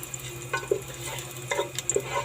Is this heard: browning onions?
yes